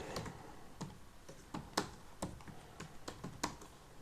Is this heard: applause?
no